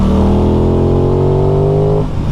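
An Aprilia Tuono sport motorcycle engine revs hard and close, its pitch climbing steadily for two seconds before dropping off abruptly.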